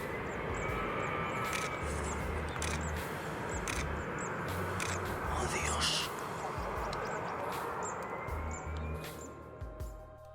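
An airliner on final approach at Barcelona El Prat Airport, a loud continuous engine roar with broadband rushing noise sustained throughout, close and dominant.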